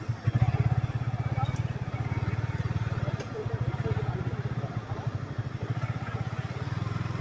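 Motorcycle being ridden and parked at a hill fort: a continuous low, evenly pulsing engine putter at moderate distance, with the engine running steadily throughout and faint clatter now and then.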